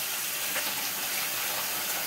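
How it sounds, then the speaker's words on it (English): Tap water gushes steadily over potatoes being rinsed, a close, continuous broadband rush with no pauses. "Now I'm rinsing off the other potatoes."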